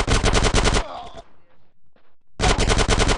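Automatic gunfire in GTA San Andreas, two loud rapid bursts of close machine-gun shots separated by a brief lull with faint thuds, the second burst starting after about a second of near quiet.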